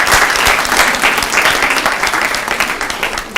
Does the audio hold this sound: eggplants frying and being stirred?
no